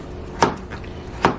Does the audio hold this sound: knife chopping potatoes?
yes